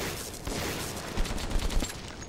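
Gunfire at creatures in Metro 2033: rapid, close bursts of shots with a few louder cracks near the end, no talking.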